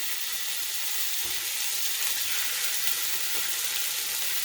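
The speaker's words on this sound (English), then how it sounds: "You can hear that sizzle going, right?" Beef pieces sizzle in a pan of extra virgin olive oil for a stew, a steady close crackling hiss that stays loud and even throughout with no voices.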